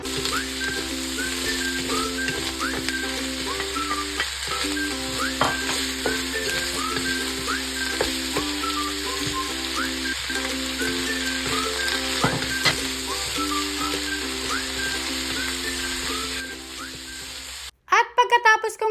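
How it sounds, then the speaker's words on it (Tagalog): Vegetables stir-fry with garlic and ginger in a hot pan over high heat for a beef stir fry, a loud steady sizzle with occasional scraping stirs and faint background tones running throughout before stopping near the end. "igigisa ko na dito ang aking mga vegetables in 2 minutes gamit lamang ang high heat"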